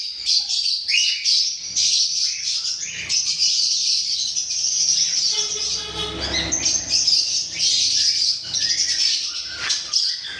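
Many caged pet birds, including conures, lovebirds and Pacific parrotlets, chirp and squawk at once in a dense, busy chorus of high tweets, continuing throughout without pause.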